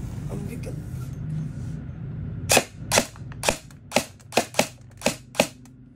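An ICS MK18 RIII licensed airsoft electric rifle fires a string of about nine sharp, loud cracks in quick, uneven succession, following a couple of seconds of low background rumble.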